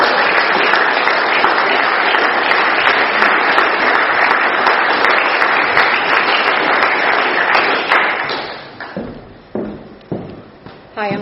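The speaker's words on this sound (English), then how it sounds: "Let's give Alan another round of applause." An AA meeting audience gives a long round of applause, dense and steady for several seconds before thinning into scattered last claps, with a speaker's voice coming in near the end.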